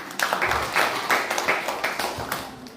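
A short burst of audience applause greets guests from Cibatu at a Ramadan welcoming gathering, with quick, uneven clapping that rises and falls over a few seconds.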